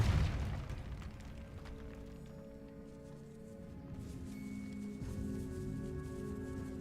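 Casting the Depulso spell in Hogwarts Legacy produces a heavy booming blast at the start, fading into a low rumble and a sustained tonal game ambience with no voices.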